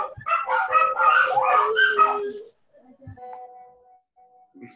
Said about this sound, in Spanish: Son los perros.